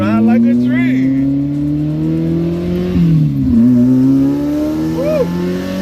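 A Fiat X19 turbo car accelerates on the road, its engine drone rising steadily in pitch, dipping briefly at a gear change, then climbing again, loud and close from inside.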